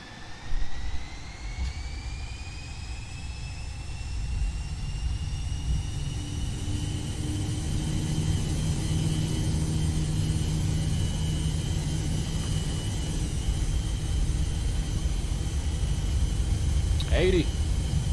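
Boeing 737-300 CFM jet engines spool up to takeoff thrust, a rising whine over a heavy, steadily building roar heard from inside the cabin as a voice talks over it.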